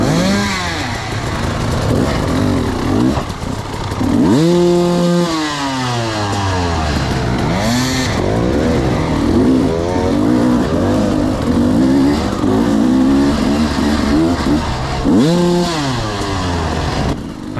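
Several off-road motorcycle engines roar and rev in a SEER Cliffhanger race, loud and close, with repeated rising and falling throttle sweeps and overlapping engines from nearby riders, no voices.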